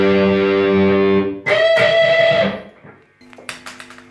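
A Les Paul Classic electric guitar played through a Laney IoT 60 amplifier rings out with loud distorted chords, a sustained note, then a pause and a few sharper picked notes.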